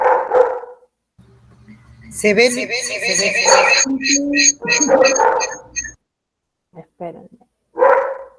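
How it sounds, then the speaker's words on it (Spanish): A pet dog barks repeatedly nearby, sharp harmonic yelps and barks in a loud cluster, while someone speaks over and between them. "¿Escuchan mi perro?"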